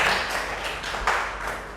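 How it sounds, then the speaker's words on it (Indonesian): Scattered clapping from a classroom of students applauding a classmate, a short light patter of hands heard alone and fairly soft. "Tepuk tangan dulu buat Mbak Tifa"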